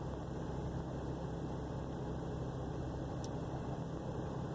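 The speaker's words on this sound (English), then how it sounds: "Idling low." A truck engine idles low right after the accelerator is released, a steady, close rumble with constant vibration and no talk over it. The blower fan runs on medium.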